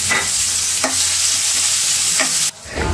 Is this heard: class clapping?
no